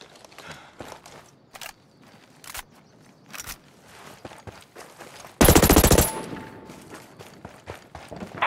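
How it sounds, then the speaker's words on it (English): Gunfire in the tactical shooter Ghost Recon Breakpoint during a PvP match: scattered single shots and footsteps, then a loud sustained burst of automatic fire lasting about half a second, followed by quieter movement. "I hear gunfire."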